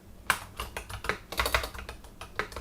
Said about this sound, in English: Boy, you can tell I don't like typing.